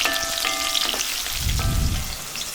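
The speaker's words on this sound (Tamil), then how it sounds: "இப்போ இது எல்லாமே சேர்த்துட்டு ஓரளவுக்கு நல்லா வதங்கணும்." Vegetables with dried red chillies sauté in a pan for a bottle gourd and beans curry, a loud steady sizzle with a brief low stirring rumble midway and no voices.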